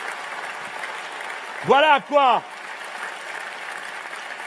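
An audience at a French political speech on ecology applauds in a steady wash of clapping that runs throughout, briefly overlaid by a man's short spoken interjection.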